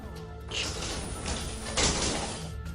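A police holding cell door slides and shuts with a rolling mechanical rush followed by a louder clatter as it closes, heard close up.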